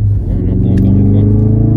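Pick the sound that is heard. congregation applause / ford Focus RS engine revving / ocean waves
ford Focus RS engine revving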